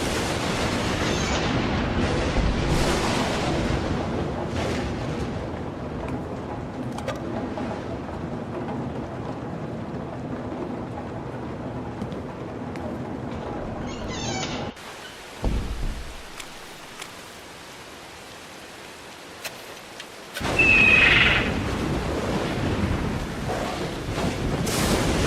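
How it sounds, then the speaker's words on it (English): Rumbling, crunchy thunder in a video game rolls over steady rain and wind for a long stretch, cuts to near silence with a few thuds, then returns with a sharp burst of storm noise. "Maybe it's just really crunchy thunder audio that happens to sound like a roar, but it's just thunder."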